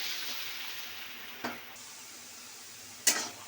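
Potatoes seasoned with turmeric and salt fry in a pan with a soft, steady sizzle, broken twice by sharp clinks of stirring against the pan, with no talking.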